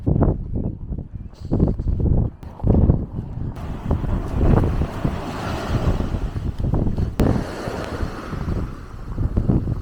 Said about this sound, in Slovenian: Sicer danes malo piha, ampak to je pač otok, ne. Je pa taka, tako topla piha